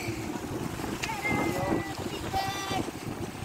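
A fishing boat is out on rough sea off a General Santos fishport, heard as a continuous wash of waves and wind with a faint tonal whine drifting in and out, while voices talk briefly over it.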